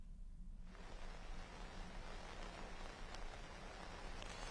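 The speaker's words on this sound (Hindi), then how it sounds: "लगातार बारिश हो रही है" Steady, continuous rain falls in Uttarkashi, a dense even hiss of drops on surfaces that stays constant and fairly faint throughout.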